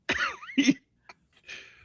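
A person coughs a few times in short, harsh bursts, close by, with brief pauses between them and no talking.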